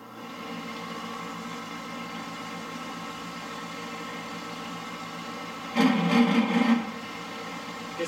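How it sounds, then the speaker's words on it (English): A pump on a brewing system runs with a steady mechanical hum, then cavitates in a short, louder churning burst toward the end before settling back to the hum. "Get some pump cavitation."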